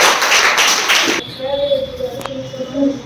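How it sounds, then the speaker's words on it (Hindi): Schoolchildren in a classroom break into a short burst of clapping for about a second, loud and close, followed by quieter room sounds and faint voices. "ताली बजाओ सब।"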